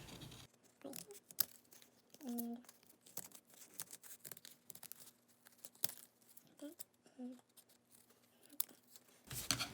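Scissors cutting through folded paper to make a snowflake, giving soft, close snips and crinkles in an irregular rhythm, fairly quiet against a low steady hum.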